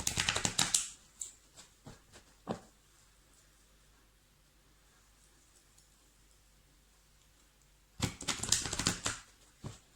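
Doreen Virtue oracle cards being shuffled at close range, in two brisk bursts of riffling and slapping card sounds separated by a long quiet stretch with a few soft taps.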